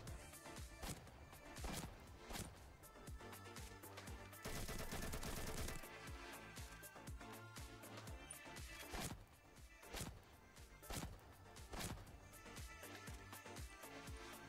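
Repeated gunshots in the Roblox game Mad City, sharp close bursts in irregular clusters with a longer continuous volley near the middle, mixed with thuds and game effects.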